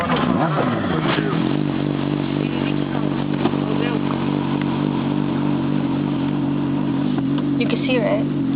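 A motorcycle engine idles steadily and loud throughout, with a low continuous rumble and some clatter; people talk faintly over it.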